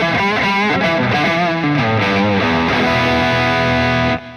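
Electric guitar played on its neck single-coil pickup through an amp, a sustained, distorted chord-driven phrase with effects, loud and continuous before cutting off abruptly, with no talking.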